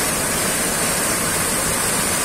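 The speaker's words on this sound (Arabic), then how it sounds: "وكل أجواء مناسبة هنا للاستمتاع بخرير المياه من شلال أول ثم شلال ثاني في الخلف" Water pouring from two waterfalls at the Ain Asserdoun spring in Beni Mellal, a dense, steady rushing roar that stays constant and loud from start to finish.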